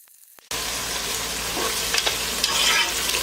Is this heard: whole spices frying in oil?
yes